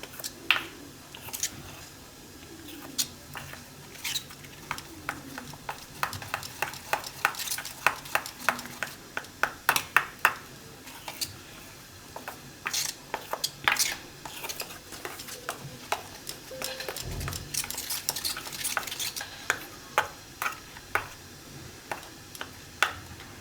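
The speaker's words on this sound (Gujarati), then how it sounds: "આ રીતે એકદમ મિક્સ કરી લેવાનું" Milk being stirred for Surti cold coco, with repeated quick clinking and scraping strokes of a spoon against the vessel in irregular bursts, fairly close.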